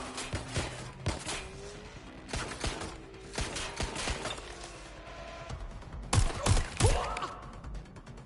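Video game gunfire in scattered bursts of sharp cracks and thuds, separated by short pauses, with a heavier cluster of loud shots near the end amid other mechanical game noises.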